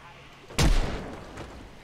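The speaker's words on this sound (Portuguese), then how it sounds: "dar uns tiros aqui só pra brincar" A single sharp pistol shot in the video game Project Zomboid cracks out, then a booming echo fades over the next second.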